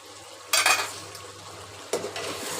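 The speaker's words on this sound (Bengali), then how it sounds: "আমার এখানে মাংসটা কষানো হয়ে গেছে" Chicken for biryani sizzles in a pot, broken by two loud stirring scrapes of a spoon against the metal, with steady frying hiss between them and no talking.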